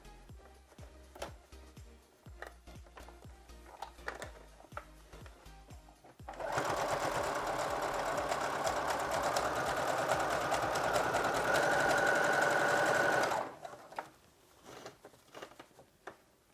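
A sewing machine runs in one continuous burst, stitching straight down the middle of stretched, flattened fabric with a steady rapid whirring hum, framed before and after by quieter clicks and fabric handling.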